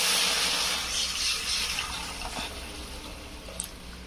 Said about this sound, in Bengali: এই মগের 1 মগ জল দেবো